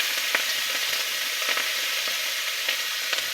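Green chillies and cumin seeds sizzle steadily in hot oil for a Bengali fish curry tempering, a close, continuous frying hiss with small crackling pops throughout and no voices.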